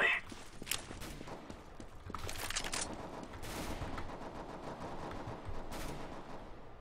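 Rapid bursts of gunfire crackle in quick succession, with a few sharp louder shots standing out over a busy background of game noise and faint footsteps in the video game Counter-Strike: Global Offensive, competitive match.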